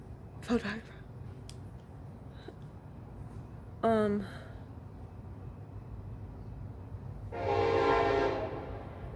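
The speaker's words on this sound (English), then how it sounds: "Yeah, that's my train." A train passes with a couple of short horn blasts and rolling rumble, followed by a longer whooshing swell near the end.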